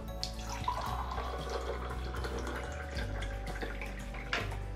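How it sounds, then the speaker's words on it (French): Purified water runs from the tap of a Berkey water purifier into a glass, a steady, close trickle and pour with a constant low hum beneath it. "je tire l'eau"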